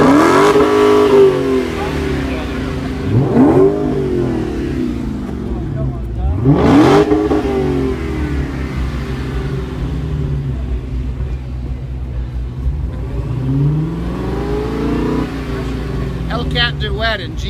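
Two 2015 Dodge Challenger Hellcat V8 engines rev together, loud and close, with several sharp throttle blips rising and falling over a steady deep rumble at idle, while people talk and call out.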